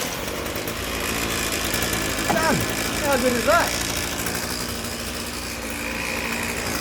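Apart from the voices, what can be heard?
small engine starting with One+ Easy Start module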